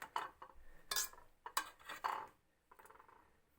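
Hot, freshly cooked ingredients for a homemade allergy and cough remedy are ground by hand, giving quiet, irregular clinks and scrapes of utensil against a bowl. No one speaks.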